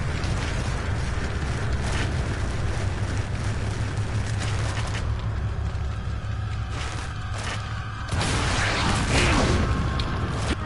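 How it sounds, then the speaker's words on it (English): A rocket launcher in Resident Evil 4 fires and explodes, heard as loud layered mechanical rumbling and booming game sounds, with a fresh burst of blast noise near the end over a continuous low drone. "So we just need to hit him with this rocket launcher one time."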